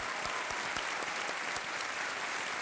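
Studio audience applause on the quiz show Kaun Banega Crorepati, a steady even wash of many clapping hands throughout, with a few sharper individual claps standing out.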